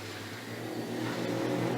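Big rig racing trucks lapping a tight circuit at Mike Pero Motorsport Park, a steady engine roar that swells slightly as a truck passes at moderate distance.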